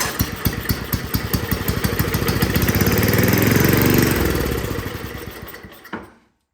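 Tecumseh 5 hp engine on a Snapper snow blower firing on starting fluid, popping rapidly and roughly for about six seconds with a rising then falling roar before cutting out abruptly, close and loud.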